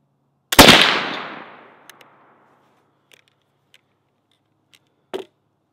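A .32 caliber flintlock rifle with a 30 grain charge fires one loud, close boom with a long decaying rumble, followed by a few faint clicks and a sharper knock near the end.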